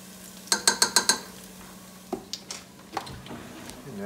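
A spoon clinks and scrapes against a soup pot as minced onion and salt are stirred, giving a quick run of five metallic taps followed by scattered softer scrapes, all close by.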